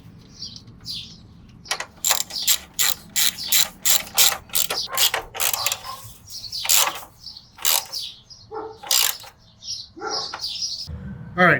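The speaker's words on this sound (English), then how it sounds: "we're going to go ahead and remove these two bolts on the driver's side" A ratchet loosening 10 mm bolts on the driver's side of a Jeep JL, heard as close, repeated bursts of fast clicking that stop and start in an uneven rhythm, with faint chirps in the background.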